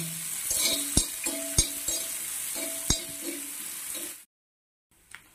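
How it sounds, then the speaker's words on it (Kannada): Onions sizzle and fry in a pan with chillies for radish palya, a steady hiss broken by several sharp clinks of a spoon stirring against the pan, then a sudden cut to near silence with one faint knock. "ಉಳ್ಳಾಗಡ್ಡಿ ಏನು ಮಾಡಬೇಕಪ್ಪ ಅಂದ್ರೆ ಕೆಂಪಾಗುವವರೆಗೆ ಹುರ್ಕೋಬೇಕಾಗ್ತೈತಿ"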